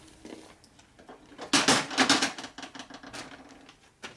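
A hammer taps metal parts during assembly of a CI stroker big-bore Harley Shovelhead engine, giving a cluster of close, sharp metallic knocks in an irregular rhythm that peaks mid-clip and then thins into lighter clinks.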